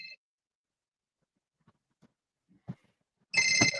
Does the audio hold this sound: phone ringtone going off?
yes